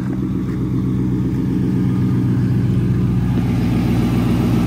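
A Dodge Challenger R/T engine idles after an air-flow modification, making a loud, steady, low rumble close by that holds even and never revs, with no talking.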